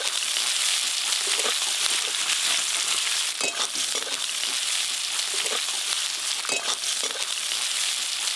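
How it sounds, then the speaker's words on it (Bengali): Chopped onions fry in a pan with a steady, loud hiss and crackle, broken by occasional clinks and scraping from stirring. "পেঁয়াজ কুচিগুলো তো একটু ভাজা ভাজা হয়ে গেছে"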